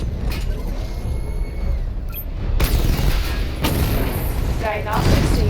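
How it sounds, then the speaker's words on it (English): Batmobile missile barrage in Batman: Arkham Knight, heard as repeated heavy booms and rumbling blasts over a steady game-engine drone, with a voice speaking over the action. "Missile barrage level 1 ready."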